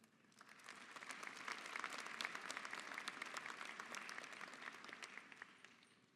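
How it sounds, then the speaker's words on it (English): Faint, distant applause rises from the audience at a high school graduation ceremony, a soft, steady patter of many hands that swells and then slowly tapers off. "I would also like to acknowledge the board members not present with us with a round of applause"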